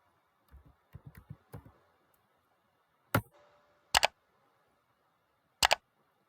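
Typing on a computer keyboard, a few quiet quick keystroke clicks, then three sharper isolated louder clicks spaced apart, in a quiet room.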